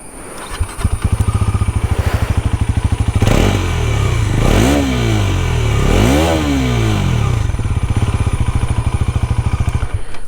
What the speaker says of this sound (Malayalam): ഞാൻ അതിൻ്റെ എക്സോസ്റ്റ് സൗണ്ട് ഒന്ന് കേൾപ്പിച്ചു തരാം.